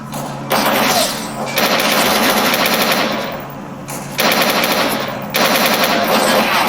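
Bursts of rapid automatic gunfire from the video game Anomaly come in about four long sustained volleys separated by short gaps, loud and close, with no speech over them.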